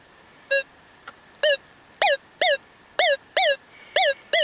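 A Minelab Gold Monster 1000 metal detector sounds a series of short, bright warbling tones over a cold rock, about eight in a row at an uneven rhythm, over a faint steady hum.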